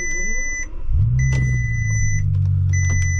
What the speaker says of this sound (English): What an amazing startup sound